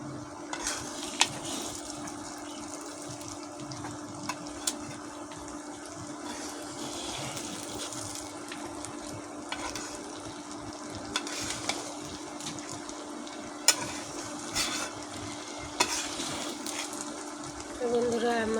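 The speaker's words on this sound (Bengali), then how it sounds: "আমার বিরিয়ানি ভাজা হয়ে গেছে" Mutton biryani fries in a wok with a continuous low sizzle, broken by occasional stirring clinks and scrapes. A person talks over it at times.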